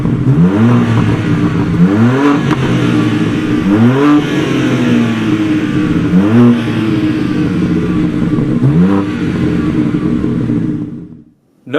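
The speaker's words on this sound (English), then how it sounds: "we took great care to bring this authentic inline six-cylinder sound back to the car" A BMW G8X M3/M4 inline six-cylinder engine revs repeatedly, rising in pitch then dropping back, several loud climbs in sequence before cutting off at the end.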